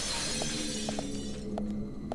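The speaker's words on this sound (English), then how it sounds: "Some glass broke." Glass shattering in the video game Deadly Premonition, a dense crash with several sharp tinkling fragment hits scattered over about two seconds against a steady background drone.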